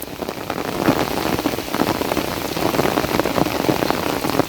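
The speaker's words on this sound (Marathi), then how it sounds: "हा प्रचंड पाऊस आहे चांगला धुवून काढतोय" Heavy monsoon rain pours onto farm fields in the Konkan countryside, a dense, continuous roar of drops drumming close by with no voices.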